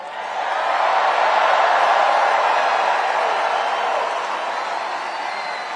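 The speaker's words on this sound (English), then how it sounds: "Like this crowd. Look at this crowd." A large crowd at a Donald Trump political rally in Charlotte, North Carolina roars in a broad, sustained wash of cheering and shouting that swells and then eases slightly.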